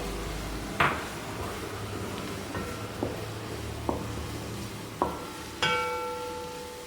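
Sliced onion sautés in a pan, a low steady sizzle under a few sharp utensil knocks and scrapes against the pan, one ringing metallic clank near the end.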